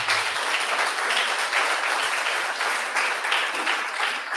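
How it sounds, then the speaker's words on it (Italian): Audience applause for author Alessandra Carati at the close of a book presentation, a steady round of clapping from a seated crowd with gentle swells, sustained and fairly close. "ringraziamo con un applauso Alessandra"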